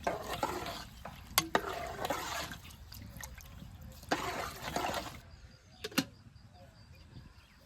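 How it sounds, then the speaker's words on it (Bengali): A homemade village dish of khuder bhaat with chopped sweet pumpkin leaves is being stirred and mixed with salt, giving scraping, rustling spoon strokes and a few sharp clinks against the pot, with no voices. "স্বাদ মতো লবণ সব কিছু ভালোভাবে মিশিয়ে দিই"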